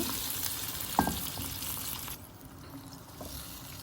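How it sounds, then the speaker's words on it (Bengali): Vegetable curry sizzles loudly in a pan, a utensil clacks once, then water is poured in and the bright hiss abruptly drops to a duller, quieter bubbling simmer. "এখন দিয়ে দিব পানি"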